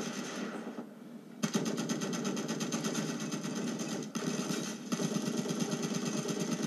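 Rapid, continuous bursts of automatic gunfire in Battlefield 4 rattle steadily with brief pauses, game weapon effects over a mechanical hum.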